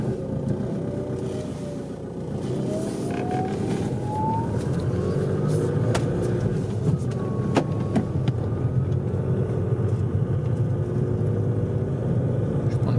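A 2006 Audi A3 on a road test after rear shock absorber replacement, steady engine and tyre rumble from inside the cabin with wind noise and a few light knocks over bumps.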